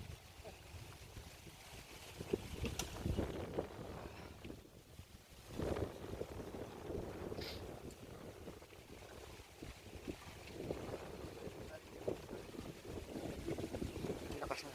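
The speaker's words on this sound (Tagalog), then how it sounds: "lakas ng hangin" Steady, broad rushing strong wind noise buffets the microphone throughout on a vegetable farm among bamboo in Abra, with low rumbling gusts and occasional faint voices underneath.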